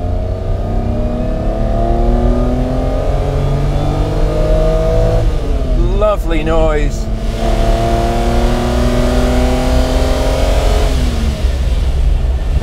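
The V12 engine of a restored Lamborghini LM002 revs hard, climbing and dropping in pitch with a loud throaty roar, steady and close throughout.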